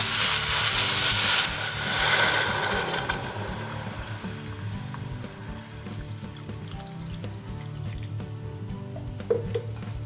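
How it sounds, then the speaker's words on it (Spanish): A litre of water poured into a pot of lightly browned vegetables with celery and oats for a vegan oat soup, a brief rushing splash at the start that settles into a low simmering bubble and faint kitchen clatter. "Le ponemos 1 litro de agua."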